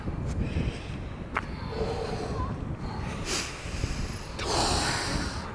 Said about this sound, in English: You get some breathing going.